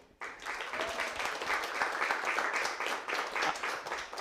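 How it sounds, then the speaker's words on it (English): An audience bursts into applause, a close, lively patter of many hands that starts suddenly and holds steady for several seconds. "You have to wait for them to clap."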